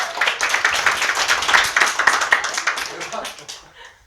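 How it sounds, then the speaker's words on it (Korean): A live audience claps in steady, dense applause, loud and continuous for several seconds before thinning out and fading at the end. "자, 박수."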